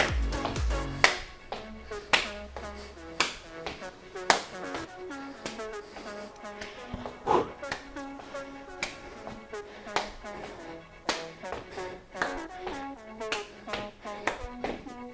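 Sharp hand claps from clap push-ups done from the toes during a home workout, repeating in a quick, fairly regular rhythm over background music.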